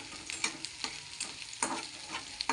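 Onion stirred in a hot pan while it fries for a village-style vegetable dish, crackling sizzle broken by repeated scraping strokes of a spoon, close and alone.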